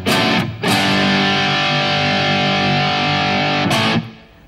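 An electric guitar played through an amplifier with rock distortion rings out in two sustained chords, the first cut short and the second held for about three seconds before stopping, loud and thick with no talk.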